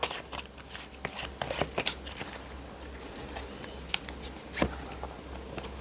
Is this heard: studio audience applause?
no